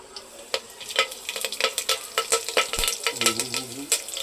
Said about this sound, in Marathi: तेल उडतंय.